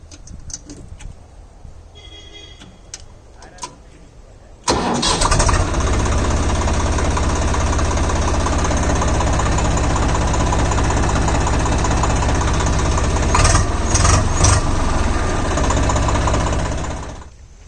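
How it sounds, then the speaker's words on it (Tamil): A Swaraj 742 XT tractor's diesel engine starts after a few seconds of quiet clicking, then runs steadily with a loud, even knocking idle close by. It keeps going alone for over ten seconds before trailing off. "742XT இன்ஜின் சவுண்ட் எப்படி இருக்குன்னு பாருங்க"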